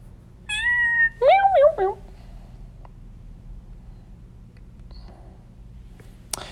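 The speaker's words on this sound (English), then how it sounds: "you will hear cats grumble" Cat meows and grumbling cries play as a sound effect, a few clear, rising and falling calls in quick succession followed by quiet background with faint clicks.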